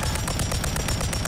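Rapid, evenly spaced musket shots ring out in a video game, a dense continuous volley of bursts at steady loudness with no talking over it.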